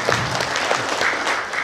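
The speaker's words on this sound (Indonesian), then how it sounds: "Tepuk tangan dulu yang meriah untuk kedua tokoh partai hanura" Audience applause at an Indonesian Hanura party political gathering, a steady dense patter of many hands clapping with faint crowd murmur, continuous and fairly loud for a short burst.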